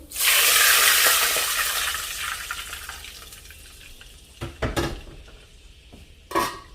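Water pours into a cooking pot of Singaporean rice with leftover chicken sausages, a loud rushing splash that fades, followed by a few sharp metallic clanks as a lid is set on, with no talk.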